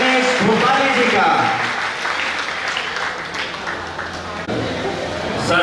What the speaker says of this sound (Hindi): एक बार जोरदार तालियों से स्वागत कीजिए हमारे दादा दिनेश भोपाली जी का